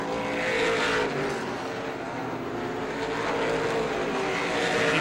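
Pro-stock race cars roar around the Star Speedway oval during a 1993 feature, a dense, continuous wall of engine noise that swells slightly as the pack blasts down the back straightaway.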